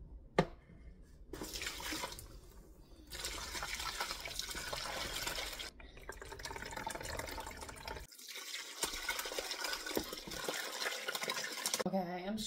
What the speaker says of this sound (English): I am straining it one more time